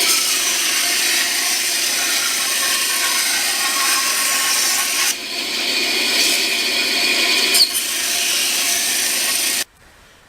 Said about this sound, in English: And cut it out on the bandsaw.